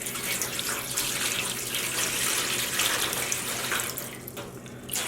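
A mixture of water and white vinegar is poured into a steam dye pan, giving a steady splashing gush for several seconds that tapers off near the end.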